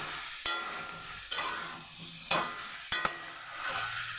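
Potato and soybean curry being sautéed in a pan, with a steady sizzle broken by several sharp scraping and stirring knocks at irregular intervals, close and with no talking.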